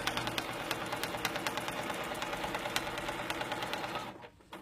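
A sewing machine stitching along a ruler foot for ruler work, with a steady fast mechanical chatter of evenly spaced needle strokes that runs close and continuous before stopping abruptly near the end.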